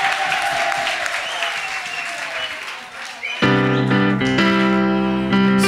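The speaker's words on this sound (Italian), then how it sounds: "Applauso." Studio audience at an Italian sports bar show applauds, a dense wash of clapping that fades, then gives way to loud music entering partway through.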